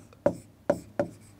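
Three quick, separate strokes of chalk or a marker on a classroom board during a history lesson. They are close and sharp, with short pauses between them and no talking.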